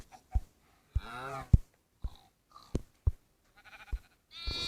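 Sheep bleat a few times in a video game amid scattered sharp clicks and thumps, the calls short and wavering, close by with no talking.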